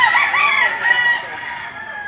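Chickens and roosters at a poultry market, several birds crowing and clucking loudly and close by across the whole stretch, with overlapping calls and no clear talk.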